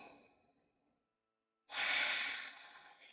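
A deep breath during a power yoga galaxy pose, a quiet exhale fading into a moment of silence before a strong, close inhale rushes in and slowly tapers.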